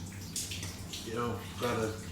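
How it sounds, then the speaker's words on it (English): A shower runs in the cramped cubicle of a Caledonian Sleeper train, a steady close hiss of water with gurgling splashes, while someone talks over it. "taking a shower on a train is not all that it's cracked up to be"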